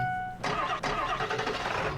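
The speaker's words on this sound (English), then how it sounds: "So let's go ahead and start the truck up." In Farming Simulator 19, a truck engine cranks briefly after a short tone, catches and settles into a steady, close mid-pitched idle.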